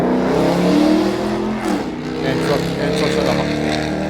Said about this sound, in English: It's so funny to see all these Beamers and Mustangs with their tuned up exhaust driving by, trying to hog the attention.